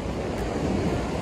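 Big ocean waves surging along a rugged Icelandic coast with caves, a brief, steady roar of surf mixed with wind buffeting the microphone.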